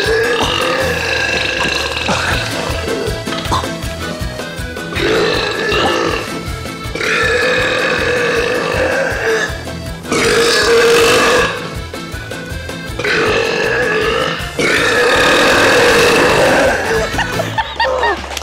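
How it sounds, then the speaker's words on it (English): Competitive burper lets out several long, loud burps, peaking around 108 decibels, one after another, each lasting a couple of seconds, with short pauses between them. "I clocked your highest belch at about 108 decibels."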